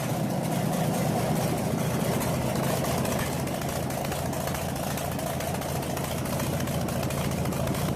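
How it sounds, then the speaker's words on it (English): A FAMOS inline diesel engine idles steadily after startup, giving a close, even low rumble with a constant mechanical clatter throughout and no talk. "As the starter engaged, the characteristic rumble of the inline diesel signaled ignition."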